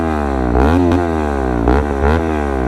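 A Bajaj Pulsar RS200 with an Akrapovic aftermarket exhaust revs hard nearby, its loud buzzing engine note climbing and falling in several quick throttle blips with no voices.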